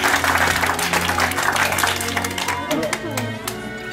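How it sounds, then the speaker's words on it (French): A crowd of children and adults applauds in a hall, with dense steady clapping that fades gradually as voices and a low hum continue beneath. "On applaudit très fort Bernard."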